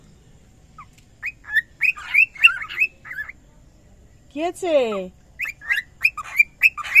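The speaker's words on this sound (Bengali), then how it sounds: "কি সুন্দর ডাকছে দেখো পাখিগুলো" Birds chirp and call in quick bursts of high tweets, with a louder squawking call in the middle, near and lively, with a brief voice speaking.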